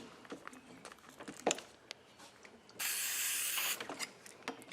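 A single sustained hiss of silicone spray from an aerosol can onto an LS cylinder head for molding, about a second long, amid small clicks and handling noises.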